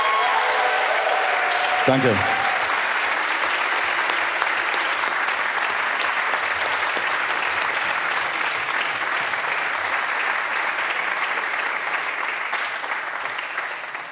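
A concert crowd at a Vienna block party in the Radiokulturhaus applauds loudly and steadily for the full stretch. A single short spoken word comes near the start.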